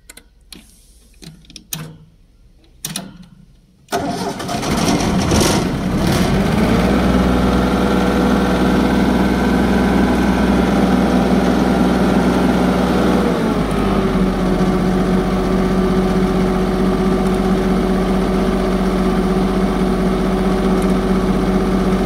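Welder generator engine cranked with a few sputtering attempts, then catching and settling into a loud, steady idle drone that shifts pitch slightly partway through.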